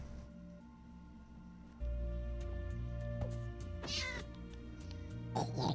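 A cat meows a couple of times, sharp and close, over a steady droning musical background, with no talking.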